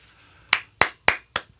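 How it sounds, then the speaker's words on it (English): Four sharp, close hand claps at an even, measured pace, each one crisp and ringing out on its own, with a brief pause before the first and no talking underneath. "That's a clap for me."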